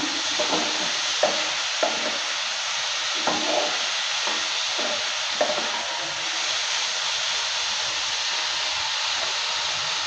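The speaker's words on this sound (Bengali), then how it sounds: "সব কিছু দেওয়ার পর ভালো করে নেড়ে চেড়ে নিচ্ছে।" Potato and bitter gourd fry in a pan with a steady loud sizzle, while a spatula stirs through them, making a few soft scrapes early on before the hiss continues alone.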